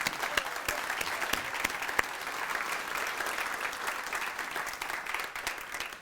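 Steady applause from an audience at a 40th-anniversary celebration for the La Malbaie hospital foundation, dense and continuous for about six seconds with sharp individual claps standing out, moderately distant.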